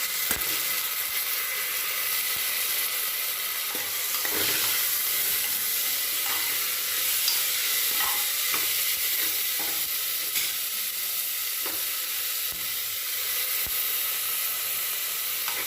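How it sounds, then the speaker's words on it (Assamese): Rice and lentils for khichdi stirred and frying in a pan, a steady close sizzle with scattered scraping spoon clicks throughout, no talking. "এতিয়া মই এইখিনি ভালদৰে লৰাই থাকিম, অলপ সময় ভাজি সেইখিনি।"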